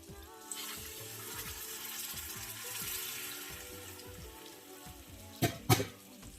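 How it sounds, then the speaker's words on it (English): Water is poured into a simmering masala gravy in a pan, a continuous soft splashing and sizzling hiss with a couple of sharper clatters near the end, close and alone. "Add water."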